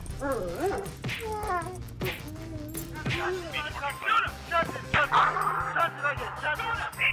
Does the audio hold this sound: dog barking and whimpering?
yes